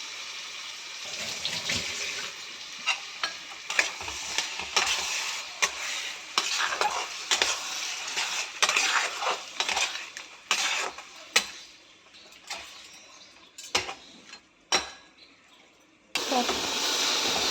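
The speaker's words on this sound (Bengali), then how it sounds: "আমার মশলা ভাজা কমপ্লিট।" Spices sizzle and fry in a pan for a yogurt-based rohu fish curry, while a spoon scrapes and stirs in steady, close bursts, then a loud burst of sizzling at the end.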